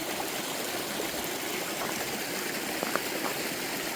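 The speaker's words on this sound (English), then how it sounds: "Beautiful stream." A crystal-clear trout stream about two feet deep flows steadily, its water rushing and trickling continuously and fairly close, with no voices over it.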